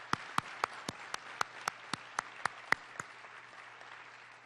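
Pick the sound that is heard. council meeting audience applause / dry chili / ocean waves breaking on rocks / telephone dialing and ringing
council meeting audience applause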